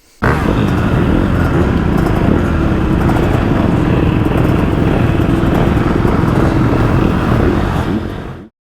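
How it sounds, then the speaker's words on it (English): Motocross motorcycles launching together from a starting gate at a race, a loud, dense roar of engines revving hard that holds steady for several seconds before cutting off abruptly. "You need to drop the clutch just before the gate."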